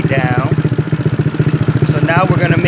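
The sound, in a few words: GY6 engine idling during PWK carburetor mixture adjustment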